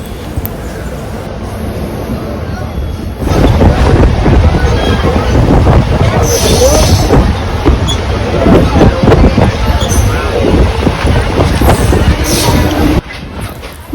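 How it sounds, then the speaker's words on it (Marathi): A MEMU commuter train pulling out of Boisar station, its rumble and wind-buffeted rushing noise building loud and steady with crowd babble around, a few faint high squeals above. "आता लगेचच निघाली आहे बोईसर स्टेशनवरून ट्रेन"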